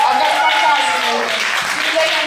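Applause from an audience at a youth camp pageant contest, steady and fairly loud throughout, with voices and speech mixed in over the clapping.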